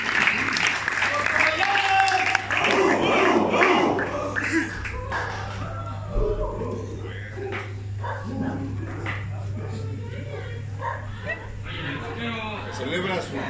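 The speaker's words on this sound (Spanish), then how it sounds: "Un aplauso para Portobello" A crowd celebrating a rehabilitation clinic's anniversary in Cancun claps loudly for a few seconds, then the sound gives way to scattered voices, chatter and a steady hum, with a dog audible among the noise.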